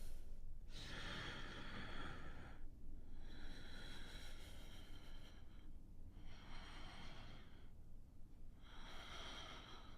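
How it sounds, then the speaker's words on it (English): Deep, slow breathing during a yoga goddess pose, with long noisy inhales and exhales repeating in a steady cycle of about four breaths, close and fairly loud with no talking. "Take a deep breath in."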